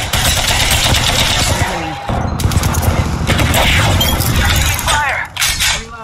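Rapid automatic gunfire in the video game Apex Legends, a loud dense burst of shots with a short pause midway, then more firing and in-game sound effects.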